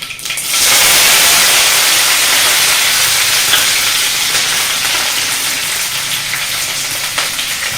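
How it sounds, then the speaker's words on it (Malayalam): Curry leaves thrown into hot coconut oil after the mustard seeds have popped, a sudden loud burst of hissing sizzle that stays strong and slowly eases off, close up with no talking. "കടുക് പൊട്ടിക്കഴിഞ്ഞ് വേപ്പില ഇടുക."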